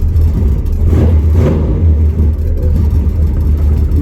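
A 1967 Chevy Impala muscle car drives with a loud, deep V8 rumble, steady and close, swelling briefly as it revs before settling into a continuous throaty drone.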